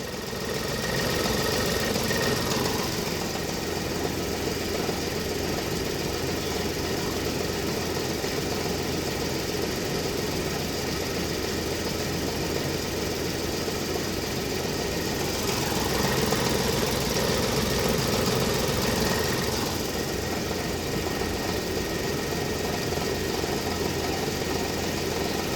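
A 2015 Ford Ka with the 1.0 engine, which has a sensor and wiring-harness fault, idles in a continuous, close, rumbling hum. The sound is broadband and fairly loud, holding steady throughout with no speech.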